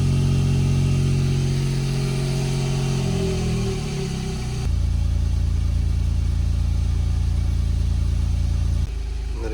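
A Smart Roadster engine idles at steady revolutions, a close, loud, even hum that holds constant throughout, with a brief shift in tone midway and no voices.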